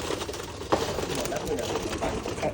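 An old Rajshahi Giribaj pigeon cooing close by, soft repeated low coos over a dense, muffled background with a sharp knock midway.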